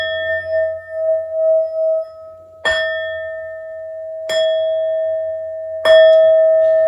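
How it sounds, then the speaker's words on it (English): Three clear bell strikes ring out in turn, each bright chime sustaining and fading slowly, with soft humming beforehand. "These next 4 bell sounds are to align us and to bless this reading."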